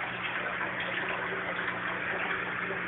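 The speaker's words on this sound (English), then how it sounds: "I'm using a little quarter-inch line to siphon water" Water siphoned through a quarter-inch line between aquaponics tanks in a garage duckweed pond setup, heard as a steady, close, fizzing trickle that runs continuously and evenly.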